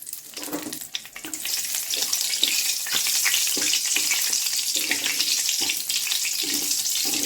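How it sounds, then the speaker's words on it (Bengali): Whole dried red chillies fry in hot oil as part of a homemade paneer and cauliflower dish, giving a steady, close crackling sizzle with light stirring scrapes throughout and no talking. "গোটা শুকনো লঙ্কাগুলো আমি ভেজে নেব"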